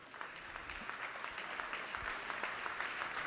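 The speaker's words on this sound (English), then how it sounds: "So if we could give a nice round of applause to Mr. Cimboli." Steady applause from a crowd during a state Assembly floor session, dense clapping holding at an even level throughout, a little distant, with no one speaking over it.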